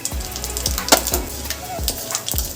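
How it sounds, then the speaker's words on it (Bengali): Cardamom, cinnamon, cloves and cumin sizzle and crackle in hot oil, a steady close frying hiss with small pops and soft stirring knocks, and no talk. "এলাচটা একটু ফাটিয়ে দিচ্ছি, দারচিনিটাকেও ভেঙে দিয়ে দিচ্ছি তেলের মধ্যে।"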